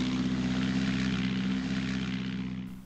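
A steady World War I propeller seaplane engine drones loudly and continuously, its low throbbing hum holding even before easing off slightly at the end.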